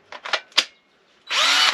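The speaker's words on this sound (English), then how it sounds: "My first tool was this combi drill driver" A cordless combi drill driver, sold with two 1.5 amp batteries, gives several short trigger bursts followed by a sustained steady whirring run, loud and close with no talk.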